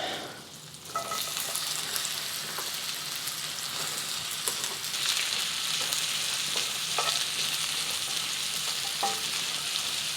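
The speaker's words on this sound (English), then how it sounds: "turning the heat down to medium, adding 2 tablespoons of butter, unsalted butter. And we're going to get our onions going." Onions frying in unsalted butter in a pan over medium heat, a steady close sizzle with faint stirring clicks throughout.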